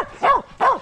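Puppies playing on a trampoline give two quick, close, loud barks in succession.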